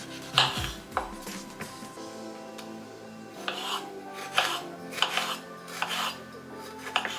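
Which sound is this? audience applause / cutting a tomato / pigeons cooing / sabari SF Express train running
cutting a tomato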